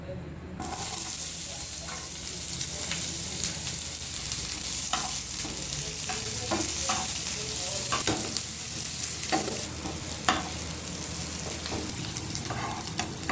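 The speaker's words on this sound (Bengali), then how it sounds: "পেঁয়াজটা ভাজা হয়ে গেছে, নামিয়ে নেবো" Chopped onion and green chilli fry in mustard oil in a pan, a steady close sizzle broken by scraping stirs at irregular intervals.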